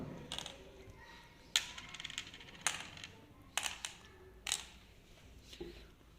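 Stones from a Mangala board game are dropped one at a time into the wooden pits, a series of sharp, close clicks and rattles arriving in an uneven rhythm over a quiet background.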